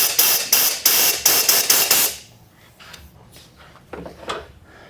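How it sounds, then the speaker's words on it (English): Compressed air blasts into a carburetor pilot circuit in short, loud bursts, about seven quick hisses in two seconds, then quieter clicks and handling noises. "Clean the pilot circuit out. Show you how we do that. Some air. And blow up in there."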